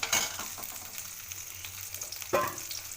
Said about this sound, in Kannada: ಅದಕ್ಕಾಗಿ ಶಾಲು ಫ್ರೈ ಮಾಡೋಕ್ಕಿಟ್ಟಿದ್ದೀನಿ.